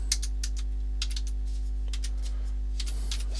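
Typing on a computer keyboard: a short run of close, crisp key clicks in quick irregular bursts, heard alone over a faint steady electrical hum.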